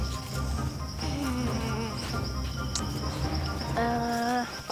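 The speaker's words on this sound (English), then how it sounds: "Go away, bees." Bees buzzing in a children's dinosaur show, a steady insect drone with several whining tones rising and falling, fairly faint, mixed with other background sounds and no speech.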